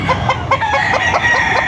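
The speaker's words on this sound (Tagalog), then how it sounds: "At ang dami niyang manok dito mga kalaki" Gamefowl rooster at Tres Amigos Game Farm crowing loudly and close by, with clucking from other chickens in the background.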